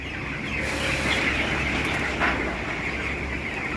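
Broiler chickens in a poultry farm during hot weather make a dense, continuous murmur of clucking and chirping under steady fan-like noise, with a few brief louder calls standing out.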